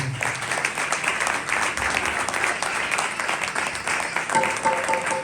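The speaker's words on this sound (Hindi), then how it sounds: "एक दफ़ा इनके लिए ज़ोरदार तालियां बजाएंगे।" Loud, dense applause from a congregation at a Christmas Day worship service, steady clapping filling the whole stretch with a short tone near the end.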